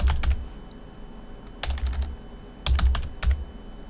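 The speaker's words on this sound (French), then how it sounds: "Et ici, je vais taper achat." Keystrokes on a computer keyboard as a word is typed into a text box, heard as four close, crisp bursts of rapid clicking separated by short pauses.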